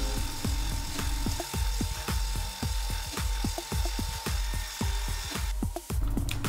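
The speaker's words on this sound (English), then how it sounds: "This is the 1/8 carbide round bit, taking about a 1/10th out depth of cut. RPM is 2500 and machining a piece of cold roll steel." A metal lathe spinning at 2500 RPM turns cold roll steel with a 1/8 inch carbide round bit at a tenth depth of cut, giving a steady machining whine broken by regular rhythmic ticks, with no talk.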